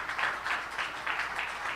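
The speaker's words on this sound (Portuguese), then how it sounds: "você pode aplaudir o Senhor?" A church congregation clapping together during a worship service, a steady wash of many hands heard through the room at moderate distance, fairly soft and continuous.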